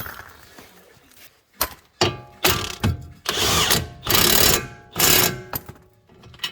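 A ratchet works on the wheel bearing of a 1999 Porsche 911 (996) Carrera at a farm, producing loud, close bursts of rapid mechanical clicking in several separate runs with short pauses between them.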